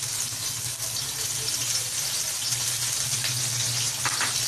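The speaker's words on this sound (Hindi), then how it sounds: "गरम हो जाएगा तो इसमें डालेंगे प्याज।" Onions frying in hot oil in a pan for a chicken and pumpkin curry produce a dense, constant sizzling hiss that stays loud and even from start to finish, with no talking.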